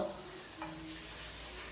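Potato and black-eyed bean curry masala being stirred and frying in a pan, a steady low sizzle with a soft scrape of stirring near the start, quiet and close with no talking.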